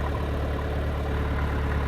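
A farm tractor idles while cattle are fed round bales of hay, a steady low engine rumble running evenly throughout with no voices.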